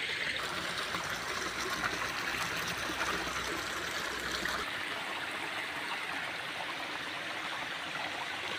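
A river flows in a steady, continuous rush of water, close and even throughout, with no voices.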